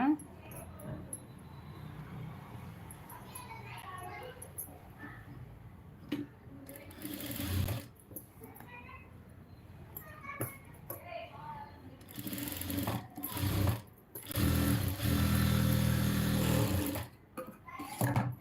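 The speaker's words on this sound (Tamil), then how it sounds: "அந்த எஜ்ஜிலே வந்துட்டு ஒரு படிமான தையல் போட்டுக்கோங்க" Sewing machine stitching along the edge of a blouse lining in a live tailoring class, running in short bursts, with a long loud run near the end, between stretches of quieter handling noise.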